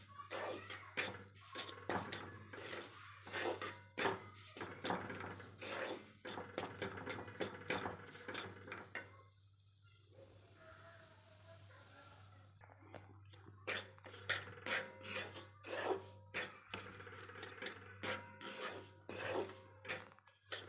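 Flour being stirred and roasted in a pan over a low flame, heard as dense, irregular scraping and rubbing strokes of a utensil against the pan, pausing briefly midway before the steady stirring resumes.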